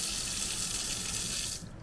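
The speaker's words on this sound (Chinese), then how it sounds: "水龙头左边是一般冷热水" Water runs steadily from a kitchen faucet in an open-plan kitchen of a luxury camper-van resort, a loud continuous gush that cuts off near the end, with no talk.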